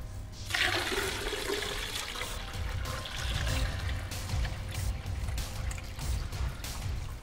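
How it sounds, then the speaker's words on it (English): A water sample poured steadily into an Imhoff cone, a continuous rushing, splashing pour of liquid that runs for several seconds at close range with no talking. "A duplicate or replicate sample will be poured into the Imhoff cone adjacent to the first one."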